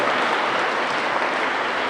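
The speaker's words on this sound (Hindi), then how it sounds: "एक बार पुनः जोरदार तालियों के साथ ये मंच आपका स्वागत करता है।" Sustained applause from a seminar audience welcoming a guest on stage, a dense steady wash of clapping at even loudness throughout with no voices over it.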